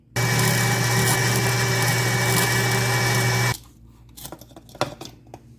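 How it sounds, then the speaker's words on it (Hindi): An electric grinder loudly whirs sugar into icing sugar for about three and a half seconds, then stops abruptly, followed by light clatter and knocks from handling the jar. "अब हम इसको दूसरी दफ़ा फिर ग्राइंडर में डालेंगे और फिर पीसेंगे।"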